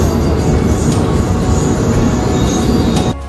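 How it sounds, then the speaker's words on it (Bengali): A passenger train at top speed at night on a long-distance run from Kolkata to Gujarat, with a loud, continuous close rumble and rattle of wheels on track and faint high squeal over it. "আমাদের ট্রেনের গতিবেগ তখন তার সর্বোচ্চ সীমা পার করছে"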